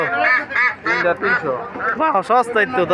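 Ducks quack and honk in a loud, close, overlapping chorus at a weekly poultry market in Sirajdikhan bazaar, the calls coming in quick bursts that fill the whole stretch.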